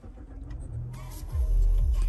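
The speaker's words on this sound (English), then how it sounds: "Let's start the car." A Mazda3 Turbo starting up: quiet idle ticking at first, then a starter crank and the engine catching into a loud, low, steady running rumble.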